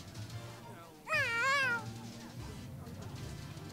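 A cat in the Tales of Xillia 2 video game gives a single clear, loud meow that rises and falls, heard alone over a low background hum from the game.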